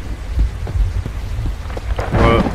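Steady rain hisses throughout with low rumbling thunder in Slendytubbies: The Devil Among Us, building to a louder roll near the end.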